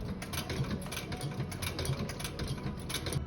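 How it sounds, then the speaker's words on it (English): A treadle foot-powered sewing machine stitches leather with a quick, even mechanical clatter, close by, repeating rhythmic ticks over a low running whir with no talk. "I used his really cool treadle foot-powered sewing machine"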